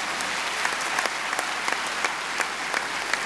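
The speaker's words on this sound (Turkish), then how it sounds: "Kendilerine tekrar kuvvetli bir alkışla teşekkür ediyoruz efendim." An audience gives warm applause to thank the speakers at the 2018 Call To World Peace event. The clapping is dense and steady for a few seconds, with sharper individual claps standing out over the crowd.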